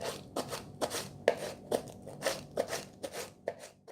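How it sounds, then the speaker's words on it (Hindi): Green chillies being finely chopped with a knife on a board, a steady series of crisp, close taps at an even, moderately quick rhythm, alone without talk. "फिर मिर्चें आपने बारीक बारीक काटनी है, इस तरह बारीक बारीक आपने मिर्चें काट लेनी है"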